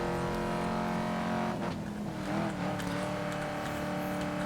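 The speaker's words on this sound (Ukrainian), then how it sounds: "Сучасний американський маслкар називається." Modern American muscle car in Need for Speed: Most Wanted (2012) roaring steadily at high revs, its engine note holding loud and continuous with a brief dip and swell midway, no talk.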